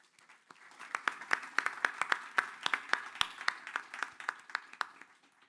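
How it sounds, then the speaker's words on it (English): An audience at a conversation event with the White House Chief of Staff applauds. The clapping is fairly distant and soft, with sharp individual claps standing out as it swells and then fades away. "Let's give them all a warm round of applause."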